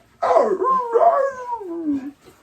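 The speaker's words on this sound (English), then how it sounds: "My dog is here wanting more attention from me." A dog whimpers and whines for attention in two drawn-out, rising then falling cries, close and fairly loud, with no talking.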